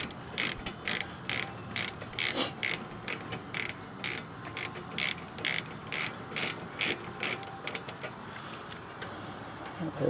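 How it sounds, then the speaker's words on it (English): A 3/8 ratchet fitted with a 14 mm socket loosens bolts during rear brake pad work on a Toyota RAV4, giving quick bursts of close, crisp clicking in a steady rhythm with short pauses between strokes. "Got my 3/8 ratchet here with a 14 millimeter socket."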